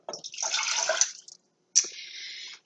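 A cup of water is poured into a pan holding half a stick of butter over medium heat, two short close splashing pours separated by a brief pause.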